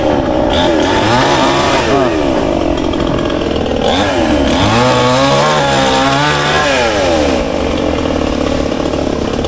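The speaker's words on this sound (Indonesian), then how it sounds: "ini memakai gergaji mesin" A chainsaw roars up close, its engine revving up and down repeatedly as it cuts into trees near an excavator, loud and continuous.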